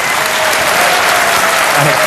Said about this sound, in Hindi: इसके लिए एक बार फिर जोरदार तालियां बज जाए इनके लिए